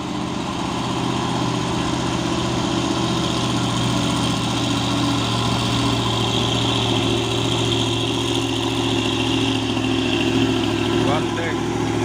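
Fuso dump truck diesel engine idling on the Bukit Godok hill climb, a steady, close, low droning rumble with firm harmonic hum that runs unbroken throughout, with voices over it.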